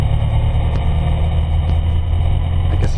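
Sport motorcycle engine under throttle during a wheelie, a loud, steady low engine drone held throughout a short burst, close and with no talking.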